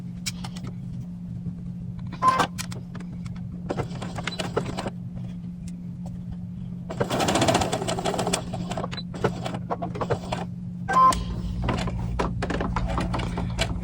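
A home sewing machine runs a quarter-inch seam on a doll dress, motor whirring in several short bursts separated by pauses, with a low hum and small clicks from handling the fabric.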